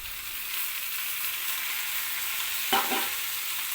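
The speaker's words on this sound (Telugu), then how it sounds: "ఇది కూడా కాసేపు ఆయిల్ ఫ్రై అయిన తర్వాత కొంచెం మగ్గాలి" Green chillies and tomato pieces frying in oil with golden onions for an egg curry, a steady close hiss of sizzling with one brief stir or scrape near the end.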